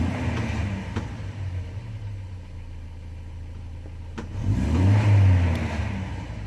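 A natural-gas-converted 2.0-litre Mercedes 190E with a rough idle runs steadily, then revs up loudly near the end before settling back, with no voices.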